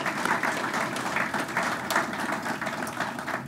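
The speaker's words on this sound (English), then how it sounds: "if you want to give all those guys a round of applause" Sustained audience applause in a room at a university football signing-day press conference, a steady wash of many hands clapping at moderate loudness with no speech over it.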